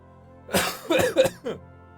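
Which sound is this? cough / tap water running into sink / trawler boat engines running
cough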